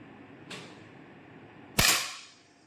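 A 10-metre air pistol firing a single shot: a faint click first, then one sharp, close crack with a short decaying tail, alone without speech.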